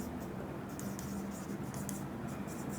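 Steady faint scratching of marker or chalk writing on a board during a classroom lesson, a continuous soft rasping with small stroke bursts and no talking.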